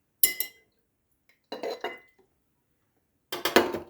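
Three short bursts of a spoon clinking and scraping inside a mug while stirring table vinegar and dish soap, separated by silent gaps, close and fairly crisp.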